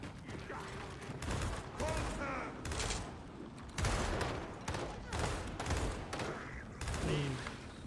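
Rapid bursts of gunfire in the video game Gears of War 4 crackle in close succession during a team match, with players' voices talking over the shooting throughout.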